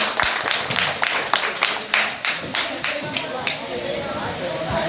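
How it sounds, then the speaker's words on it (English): Audience clapping at an outdoor drumming performance at a zoo Halloween event, a burst of scattered hand claps that thins out over a few seconds amid crowd chatter. "Please give yourselves a round of applause."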